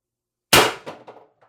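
A single sharp shot from a high-pressure-air (HPA) carbine at 1100 psi firing an 11-gram Sumo XL pellet, loud and close, with a quick decaying metallic ring and rattling echoes after it, no talk.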